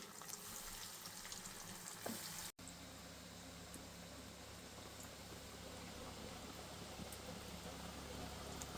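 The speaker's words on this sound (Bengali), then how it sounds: "এবার এগুলো আমি ডুবো তেলে ডিপ ফ্রাই করে নেব।" Suji snacks coated in cornflour and biscuit crumbs deep frying in oil, a steady, dense sizzling hiss that runs continuously throughout at moderate loudness, with a brief break partway through.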